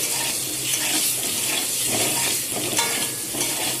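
Eggs fry in a pan seasoned with turmeric and salt, a steady close hiss and crackle with faint stirring scrapes throughout, no voices.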